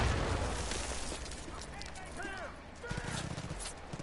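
Explosion in Far Cry 5, a heavy low boom rolling into crackling debris, followed by a second rumbling burst, with someone talking over it.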